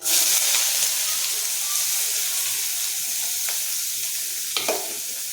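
Steady sizzling hiss of a chopped large onion frying in hot oil for vegetable kurma, continuous and close, with a couple of brief stirring clinks near the end.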